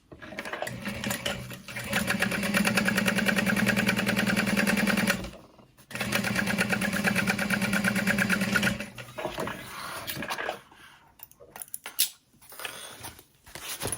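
A sewing machine runs in two long steady bursts as backpack panels are stitched together, with a short pause between them and then quieter handling noises as the fabric is moved.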